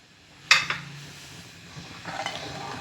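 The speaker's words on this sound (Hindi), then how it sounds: "साथ ही हम इसमें अपना ड्राई फ्रूट ऐड कर देंगे" Dry fruits are dropped into milk vermicelli in a pot, with a sharp clink of a spoon against the pot followed by softer scraping and light clatter; quiet kitchen background.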